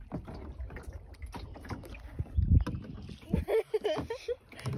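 Kayak paddling on a lake, with irregular splashes and water gurgles close to the microphone, wind noise, and people talking intermittently over the strokes.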